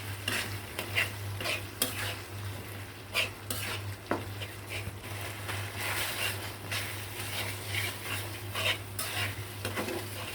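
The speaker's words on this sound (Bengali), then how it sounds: "ওখান থেকে কাকুলের বাটাটা দিয়ে ভালো করে ভাজা ভাজা করতে হবে" Spice paste fries in a hot pan while being stirred, a steady sizzle broken by repeated scraping strokes of the spoon and light clinks against the pan, with no voice.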